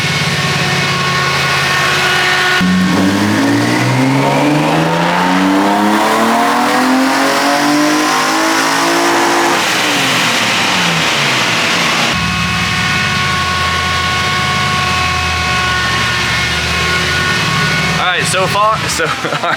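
A naturally aspirated BMW engine running on E85 ethanol howls through a dyno pull, its pitch climbing steadily for several seconds before the throttle snaps shut and the revs fall back to a rough idle, loud and close.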